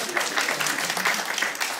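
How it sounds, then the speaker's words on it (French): Comedy club audience claps together as a show-of-hands vote, a short, dense patter of applause from a sizeable crowd. "j'ai envie de vous laisser le choix par applaudissement"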